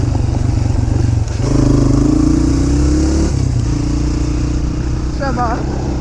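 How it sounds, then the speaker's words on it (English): Motorcycle engine on a farm-tour ride, revving and blipping for a rev-matched downshift, loud and close with a steady drone, a rise in pitch mid-clip, then settling back; a faint bird chirp near the end. "We got a nice rev match."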